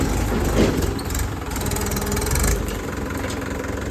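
A small 'Bago' tractor engine idling on a new rural road, a steady low chugging rumble with a slight knock, close and continuous throughout with no talk.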